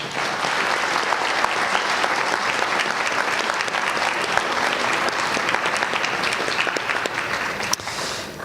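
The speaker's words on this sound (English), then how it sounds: "Let's give them another round of applause." An audience at a school district board meeting claps steadily and enthusiastically, a dense wash of applause that continues without a pause across the whole stretch.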